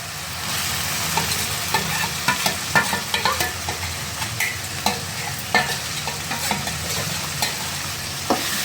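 Tomato frying in hot oil for a prawn curry, a steady close sizzle punctuated by repeated scraping stirs of a spoon against the pan, with no voices.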